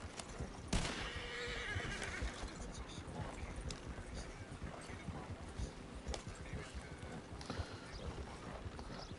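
A horse in Red Dead Redemption 2 whinnies loudly near the start, and hooves clip-clop steadily through the rest, over a busy game soundscape with talk layered on top.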